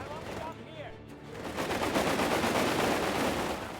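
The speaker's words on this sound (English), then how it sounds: "a British push by HerrBlautier to force his way through the German lines is thwarted here by a nice position machine gun here" A positioned machine gun in a Company of Heroes 3 battle rattles off a sustained rapid burst, loud and continuous after a brief quieter opening with scattered battlefield noise.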